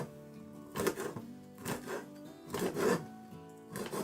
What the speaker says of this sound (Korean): 베트남 고추를 썰고 있는데